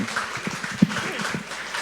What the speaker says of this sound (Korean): 우리의 예배를 기뻐 받으시는 주님 앞에 감사와 영광의 박수를 올려드립니다